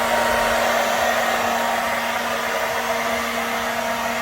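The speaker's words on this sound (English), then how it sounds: "hairdryer going, get it all nice and dry" A hair dryer blows steadily on a freshly painted 1/5 scale Baja RC car body, a loud, continuous whir with a constant hum that never pauses.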